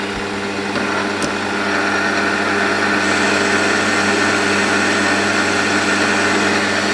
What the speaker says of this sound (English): it's machining very nicely